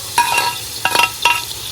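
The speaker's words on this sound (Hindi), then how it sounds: "टमाटर ऐड करने के बाद इसको अच्छे से हिलाएंगे।" Tomatoes being stirred in a hot frying pan for chicken pulao give a soft sizzle with a few quick scraping strokes of a spoon against the pan, close and clear with no talking.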